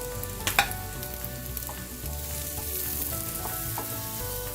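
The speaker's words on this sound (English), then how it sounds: "We want our mushrooms half cooked before we add the eggs." Mushrooms frying in a pan give a soft, steady sizzle with a few stirring clinks and scrapes near the start, fairly quiet and close, with no voices.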